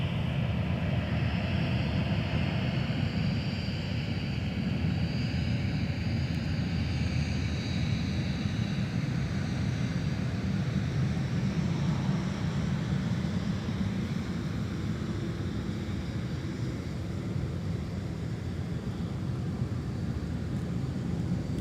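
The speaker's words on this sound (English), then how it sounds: "that aircraft is taxiing by, taxiway Mike only" An aircraft taxis along taxiway Mike at Minneapolis–St. Paul airport a few hundred feet away, its engines giving a steady, continuous drone at even loudness throughout, with no speech.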